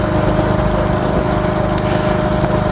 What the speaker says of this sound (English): This is a pump.